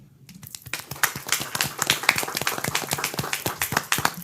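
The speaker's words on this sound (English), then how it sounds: "I would like to ask an applause for him." Applause for the city mayor at a Clewiston, Florida city commission meeting, a small room's worth of crisp, uneven hand claps that start abruptly and keep up a steady patter, near and fairly loud.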